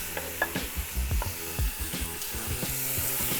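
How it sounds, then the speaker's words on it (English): Short ribs searing in a hot pan, a continuous sizzle with repeated scraping and stirring knocks as the meat is moved around, close and fairly loud. "I just want a nice little sear on them."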